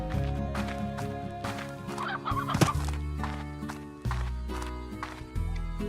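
Chickens clucking in the video game Slime Rancher, several short cackling calls over busy game music with a sharp squawk in the middle.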